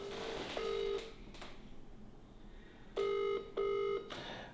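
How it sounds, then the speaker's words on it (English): A telephone rings out with no answer, two-tone electronic ring bursts repeating at steady intervals, clear and moderately quiet, with no voices. "No one is picking up their phone"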